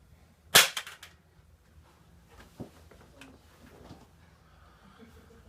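Glock pistol dropped onto the ground in a drop safety test, one sharp close impact clatter followed by brief rattling, then quiet room tone with faint distant bird sounds.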